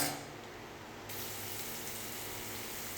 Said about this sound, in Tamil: வெங்காயம் போட்டு கொஞ்சம் வறுத்துக்கலாம்